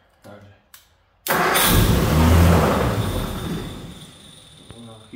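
A 1955 Ford F250 engine cranks and catches, roaring loudly up to speed right after a couple of brief knocks, then settling toward a steadier run as it fades slightly; a voice speaks briefly near the start.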